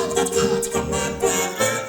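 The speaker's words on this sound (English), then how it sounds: "put an ensemble plugin on it, and it sounds like this with the vocoder." Lead vocal processed with a vocoder, octave pitch shifting on either side and an ensemble plugin, producing a thick, wide, synthetic-sounding voice that pulses in short rhythmic phrases, loud and close.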